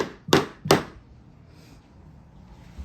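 Hammer blows during a cord repair in a house, two sharp, loud strikes about half a second apart, then quiet room noise with faint movement.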